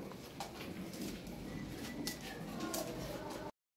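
Large fancy pigeons, including a jet-black pair of Roman pigeons kept for sale, coo in low repeated calls nearby over a steady background hiss, then the sound cuts off abruptly.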